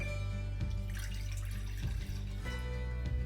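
Water pours into a pot on medium heat for making air dry clay, a continuous close splashing trickle with a few brief dips, and no talking over it.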